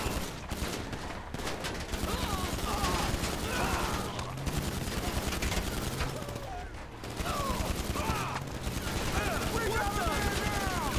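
A GTA 5 battle rattles with continuous fusillades of automatic gunfire, dense and steady throughout, with a voice talking over the shooting.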